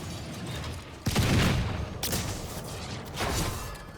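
A booming launch blast from a cannon in a Call of Duty Zombies map, Citadelle des Morts, followed by a rushing whoosh and a second swell of noise, loud and without talk.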